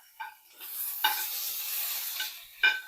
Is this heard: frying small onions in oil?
yes